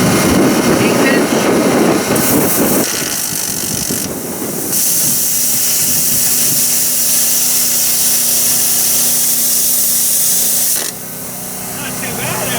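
A cheap plasma cutter cuts through 1/8 inch metal plate, a loud continuous hiss and roar that shifts in tone as the cut goes on, close and steady, then drops in level near the end.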